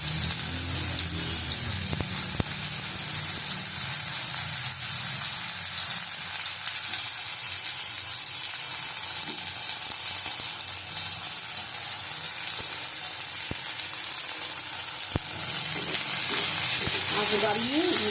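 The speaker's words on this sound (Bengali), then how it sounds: "তেলটা তেতে গেছে, আমি ঝিঙেটা হালকা ভেজে তুলে নেবো।" Ridge gourd fries in hot oil, giving a loud, continuous sizzle that holds steady throughout, broken only by occasional faint stirring clicks. No one speaks.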